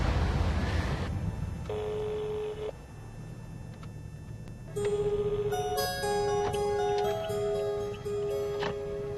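A telephone rings in an indoor scene, with a repeating electronic ringing pattern of tonal bursts over a steady low background hum, fairly loud and without talk.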